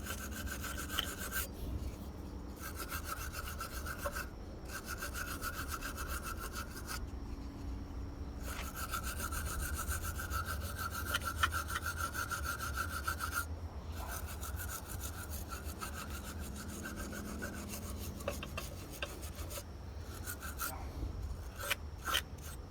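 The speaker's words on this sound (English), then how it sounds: "Use a brass brush." A brass brush scrubs a part from an old 2 1/4 hp Briggs and Stratton barn-find engine that sat for 37 years, giving sustained raspy rubbing strokes with a few brief pauses, close and fairly steady, with no talking.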